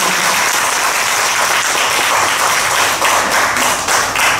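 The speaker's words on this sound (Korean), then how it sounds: "큰 박수" Audience at a Korean book concert giving a big round of applause, loud dense clapping from a full room, continuous and close throughout.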